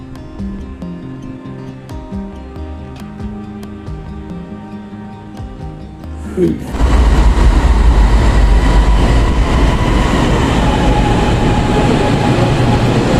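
A train pulls into a station in Putrajaya, Malaysia. A quieter platform ambience with soft tonal chimes gives way to a sudden loud, steady roar of the arriving train from midway on.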